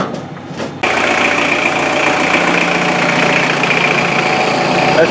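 Mini excavator engine idling with a steady low rumble that starts abruptly after a brief quiet moment and continues loud and close.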